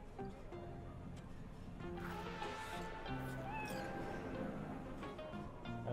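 A cat in the Cyberpunk video game meows several times in a row, a close series of drawn-out, wavering cries with brief gaps between them.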